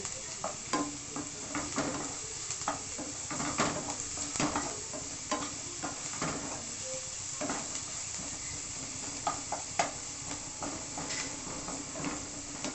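Onions sizzle steadily in a pan with a little salt, while a spoon scrapes and stirs them in frequent, irregular clicks and scuffs, close by and fairly quiet, with no one speaking.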